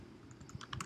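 A few quiet computer keyboard keystrokes, with clicks clustering toward the end of the short burst and no speech.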